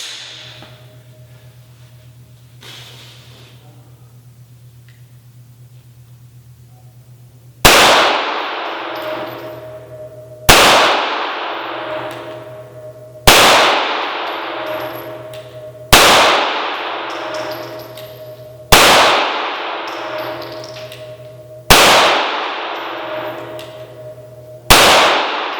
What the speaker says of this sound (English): I'll be shooting just the center of the target.